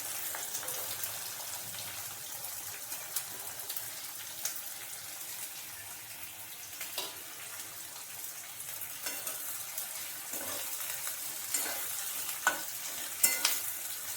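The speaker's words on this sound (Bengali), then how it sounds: "আমি তেলের মধ্যে দিয়ে দিচ্ছি পেঁয়াজগুলো।" Onions sizzle in plenty of hot oil for a Bengali Lote fish kosha, a steady close crackle with occasional stirring clinks and scrapes, continuing without talk.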